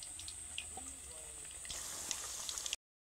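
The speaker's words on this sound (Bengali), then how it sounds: "এগুলোকে এখন আগের বারের মতো উল্টে পাল্টে লাল লাল করে ভেজে নেব।" Bean pakoras sizzle steadily in hot oil, a soft continuous frying hiss with faint crackles, quiet and close throughout with no talking.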